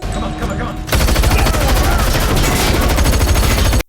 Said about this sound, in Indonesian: langsung melepaskan rentetan tembakan ke arah mereka